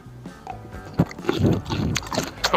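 Crunchy stir-fried celery with bacon and tofu is chewed close up, giving a few wet, crisp bites and squishy munching that grow denser toward the end, with no talking.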